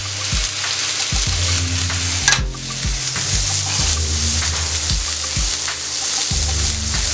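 Smash burger patties sizzle loudly on a hot griddle, a strong, steady frying hiss up close with low rhythmic thuds and scrapes from the spatula recurring every half second or so, no voices.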